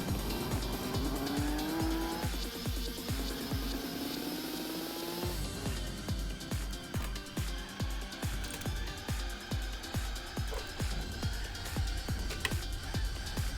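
A race car laps the Nordschleife in Gran Turismo 4, its engine revving loud and continuous with gear changes and rising pitch, then a rapid rhythmic pulsing drone through the rest of the run, with no talking.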